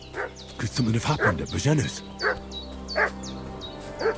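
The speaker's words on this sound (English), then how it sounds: "What's that dog making such a fuss about?" A dog in Kingdom Come: Deliverance 2 barks in short repeated bursts, several sharp yaps spaced across the clip, over a low steady game ambience with someone speaking in the middle.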